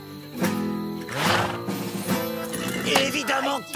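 A cartoon horse whinnies in long, loud, wavering calls that repeat across the moment, with a soft clip-clop beneath and little else around it.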